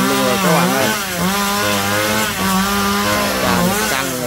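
A chainsaw cuts into a large coconut or jackfruit tree outdoors, its engine loud and close and rising and falling in pitch as the chain bites into the wood.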